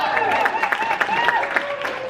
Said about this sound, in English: That does deserve an applause break